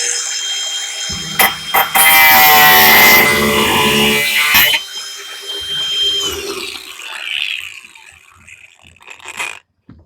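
A grinder cuts off protruding bolts with a loud, harsh whining burst lasting a few seconds, then winds down and fades over several more seconds, with a few faint clanks near the end.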